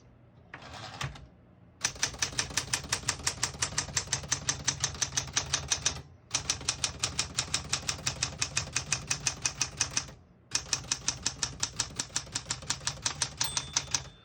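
Rapid, steady clacking of a 1970 Smith-Corona Super Sterling manual portable typewriter in long runs, broken by short pauses for the carriage return and the margin bell; close and crisp.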